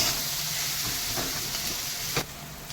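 Snails fried with spices in a pan give a steady, close hiss and sizzle that runs unbroken, with a brief clatter near the end and no voices.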